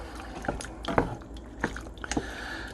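Chicken gizzards are stirred in a mushroom sauce, giving soft wet squishes and a few sharp spoon clinks against the pot, close and fairly quiet.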